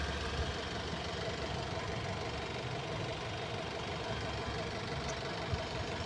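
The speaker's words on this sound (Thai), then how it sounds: "คอมแอร์ยังใช้งานได้ดีอยู่ครับ" The air-conditioning compressor of a 2019 Honda CR-V Gen 5 turbo diesel runs with the engine idling, a steady, even hum and low mechanical drone throughout with no breaks.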